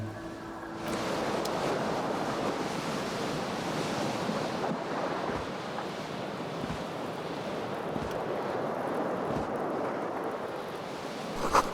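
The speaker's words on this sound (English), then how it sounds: "A cool wind gushes in." A cool wind rushes steadily through the game Disco Elysium, a broad, unbroken whoosh at moderate loudness that rises slightly and then holds. No one speaks.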